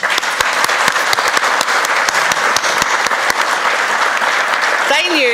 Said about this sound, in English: if you do want to applause for anyone, please applause for the Monash Hospital